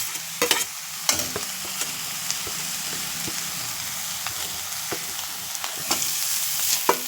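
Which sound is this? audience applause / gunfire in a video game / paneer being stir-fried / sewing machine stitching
paneer being stir-fried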